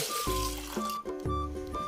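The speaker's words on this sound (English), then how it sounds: "pour back the lime juice into the mixing bowl" Lime juice pours into a Thermomix mixing bowl with a gurgling, sloshing run in several uneven bursts, close and fairly loud, with no one talking.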